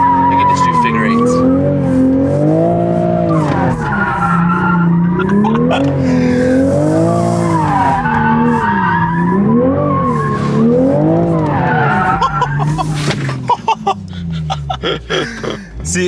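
A Toyota Supra doing tight figure eights in a small lot, its engine surging and falling in repeated waves as the tires squeal through each turn, loud and continuous, with faint voices near the end.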